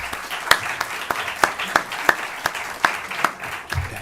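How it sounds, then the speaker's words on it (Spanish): Sparse audience applause follows a speaker's talk at an academic seminar, scattered individual claps spaced irregularly rather than a dense ovation, fairly close and distinct. "pido un fuerte aplauso para Carlos Espuig Calvar"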